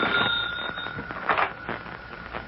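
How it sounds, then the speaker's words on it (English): An old telephone rings in an old-time radio drama, a steady electric bell-like trill filling the moment, close and fairly loud with no talking. "That's the phone ringing in your office, Jones."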